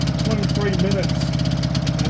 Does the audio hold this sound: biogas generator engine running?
yes